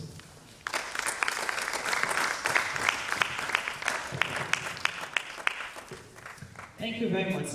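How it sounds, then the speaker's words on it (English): An audience applauding at a biomedical research conference, with dense clapping and sharp individual claps over a continuous crowd wash, briefly dipping before a louder burst near the end; a voice is faintly present underneath. "Please let's sustain the applause for the name SBMS."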